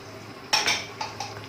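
Metal utensil scrapes and clinks against a pan while chicken liver mixture is stirred, a few distinct knocks close by over a faint background hiss.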